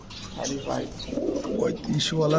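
Pigeons kept for sale, including racer and Budapest breeds, give soft repeated coos close by while someone talks over them.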